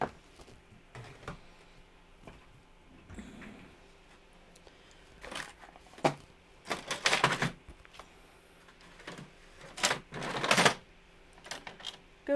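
A home printer runs a page, giving faint, irregular clunks and short mechanical whirring bursts that grow louder and denser toward the end of the run.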